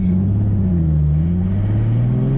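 A car pulls away from a stop in first gear at a drift school, its engine revving up close and loud in a steady rising drone with no talk.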